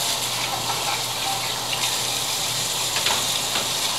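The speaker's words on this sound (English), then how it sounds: "Rinsing my hands off right now." Hands rinse under a running kitchen faucet, a steady close hiss of gushing water splashing into a sink without pause.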